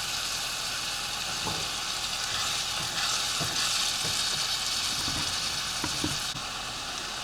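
Mushrooms fry in a pan with a steady close sizzle, broken by a few soft knocks of a utensil stirring, with no voices.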